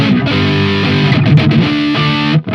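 Firefly FFMN electric guitar on the neck pickup with a distorted tone, playing a short sustained chordal riff with a brief drop near the end, loud and close.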